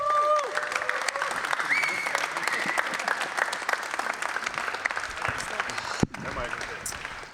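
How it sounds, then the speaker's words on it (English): Sustained audience applause at a Trackmania esports final at The Gathering, a dense roar of many hands clapping with crowd noise, steady and loud throughout, briefly dipping near the end before resuming. "Big applause to the fastest player in the building, Tefs!"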